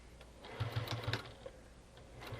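Sewing machine stitching quilt binding, running in a short burst of quick, low rhythmic whirring stitches before easing off, fairly faint and with no talking over it.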